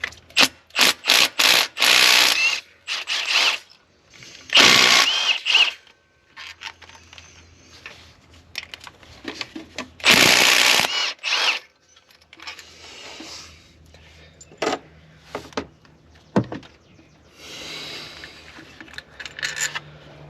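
A ratchet wrench loosens 10 mm water pump mounting bolts on a 2009 car, giving bursts of loud, rapid clicking that alternate with quieter pauses and faint handling noises, close up and with no talking.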